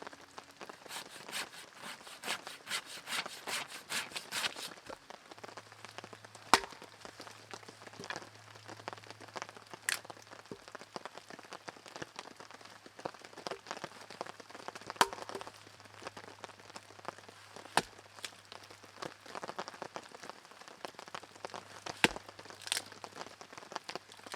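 Heavy rain falls in a forest during a solo bushcraft overnight, a dense steady patter on leaves and surfaces with sharp cracks and crackles from a fire burning in the downpour, plus a low continuous hum through much of it.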